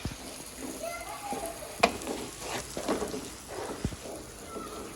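Fried arbi (taro root) sizzles in masala in a pan, with crackling spatters, a few sharper pops and stirring scrapes, while someone talks over it.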